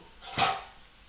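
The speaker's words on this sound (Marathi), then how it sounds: "राहिलेली भिंडी कापून घेऊ" A single short crunchy cut of a knife slicing through okra on a board in a home kitchen, quiet and close.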